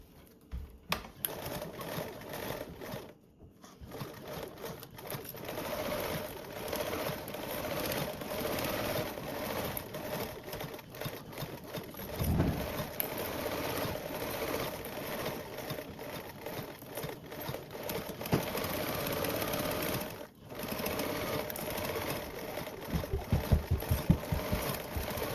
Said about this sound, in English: I'm going to go ahead and baste around and baste with my mesh facing up so I can see where my curves are.